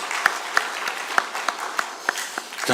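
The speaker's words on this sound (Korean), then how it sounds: "우리 다시 한번 우리 하나님께 영광의 박수 올려드리겠습니다" A church congregation claps after a hymn of praise, a steady spread of handclaps with a few sharper slaps standing out, moderately close and continuing for a few seconds with no voices over it.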